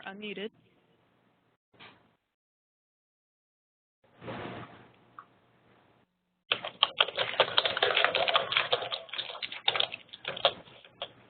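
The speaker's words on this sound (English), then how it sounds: "I hear a lot of typing." Rapid clattering of computer keys, starting after a few scattered sounds and continuing as a dense, steady burst of typing close by.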